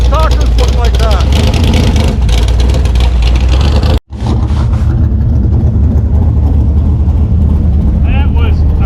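An old car styled like a vintage Pro Stock drag racer roars hard off the line, its loud engine note sustained for several seconds before a sudden cut and a rumbling resumption, with talk mixed in.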